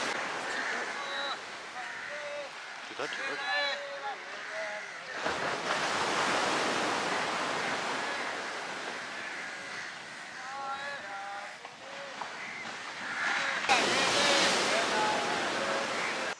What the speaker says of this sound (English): Right now I'm just walking on the beach